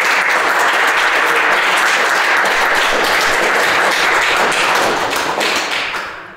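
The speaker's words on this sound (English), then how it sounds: "Please, round of applause for the teacher." Sustained audience applause for a teacher at an accessibility meetup, a dense steady wash of many hands clapping close by that runs throughout and fades at the very end.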